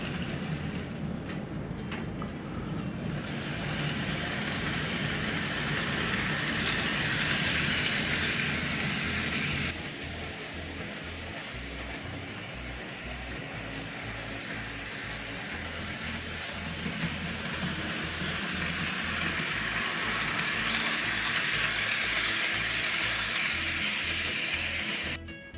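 Bachmann model locomotive pulling a short rake of Silver Series passenger coaches, giving a steady continuous rolling rumble and hiss of wheels on track throughout, with a slight change in tone midway and no talking.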